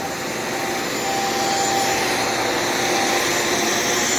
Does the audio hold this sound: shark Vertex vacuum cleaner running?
yes